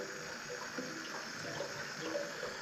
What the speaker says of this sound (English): we can hear the tank gurgling as well